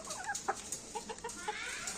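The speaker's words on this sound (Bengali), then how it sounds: "এখন মুরগিকে পাতাকপি কুচি করে দিয়েছি, এগুলো খেতে দেবো।" Chickens clucking softly and steadily as they are fed chopped cabbage, several short close-up clucks and murmurs in quick irregular succession, fairly faint overall.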